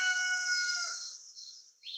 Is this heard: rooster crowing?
yes